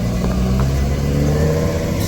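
Delivery trucks from UPS and FedEx drive along a residential street, making a continuous low engine rumble and road noise that holds steady for the whole stretch, fairly loud and close.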